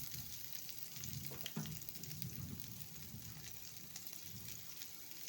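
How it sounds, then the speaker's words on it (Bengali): Onion frying in oil in a pan, a quiet steady sizzle with soft stirring scrapes running throughout, no talking. "এগুলো সুন্দর করে ভেজে নেব।"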